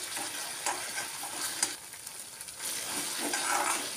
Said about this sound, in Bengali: নারকেলটা দিয়েও ভালো করে কষিয়ে নেব।